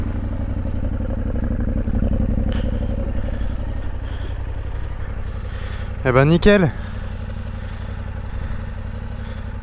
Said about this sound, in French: Une belle petite session de moto.